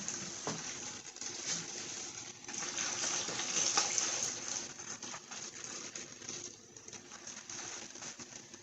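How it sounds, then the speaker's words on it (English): Water gurgling and rushing steadily through a heater core hose of a 2012 Chrysler 200 3.6 during a flush, nearby, a continuous bubbling flow that swells slightly in the middle. "I'm going to add a little more water."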